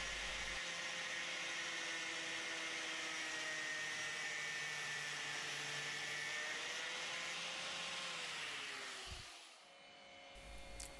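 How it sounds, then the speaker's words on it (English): A Dremel rotary tool grinds and shapes a small wooden key for a chest built from a log, giving a steady, loud high whine that runs for about nine seconds before cutting out, with no one talking. "So I finish off the shape of the key with the Dremel."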